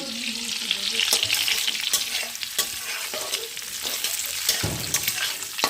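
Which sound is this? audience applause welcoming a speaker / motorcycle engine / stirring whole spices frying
stirring whole spices frying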